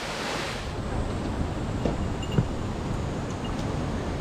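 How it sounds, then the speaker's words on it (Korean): Guryong waterfall in the Sogeumgang valley of Odaesan gives a steady, broad rushing roar of falling water, constant and fairly distant, with no talk over it. "여기가 그 유명한 구룡폭포입니다"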